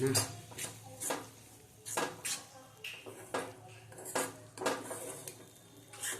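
Utensils clink and scrape against a pan while green turmeric chutney with fresh coriander is stirred, irregular close metallic knocks and clatter repeating throughout with no talk.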